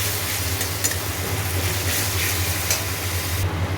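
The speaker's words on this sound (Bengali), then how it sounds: "এবার আদা রসুনের পেস্ট দেবো" Ginger garlic paste fries with onion and tomato in a pan, a steady close sizzle and hiss with occasional stirring scrapes.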